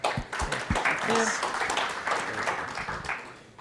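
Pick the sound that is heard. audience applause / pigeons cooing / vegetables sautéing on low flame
audience applause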